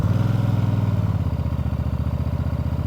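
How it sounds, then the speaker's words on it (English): A 2024 Benda Chinchilla 500 motorcycle engine runs at a steady idle close by, a loud, even throbbing pulse that settles slightly lower partway through, with no talking. "turn off the hazard light and turn on the engine here."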